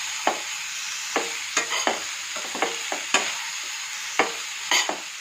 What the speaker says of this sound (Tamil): கேரட், கேப்சிகம்மை போட்டுருணுங்க. அதுக்கப்புறம் வதக்கணுங்க.